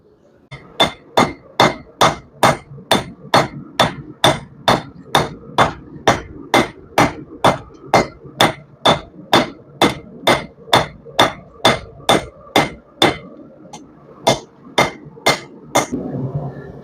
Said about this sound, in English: we're going to switch to the rounder side of the hammer like that. Hit down the middle, squish it down again